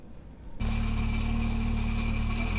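A 1934 Bentley's engine catches after half a second of near quiet, then runs on in a steady, close, even drone with a low rumble at a motorsport day.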